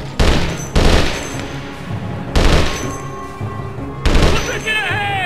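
Heavy gunfire in Conflict: Desert Storm, a military shooter, comes as four loud, booming shots spaced irregularly, each trailing off into a reverberant tail, with a voice speaking briefly near the end.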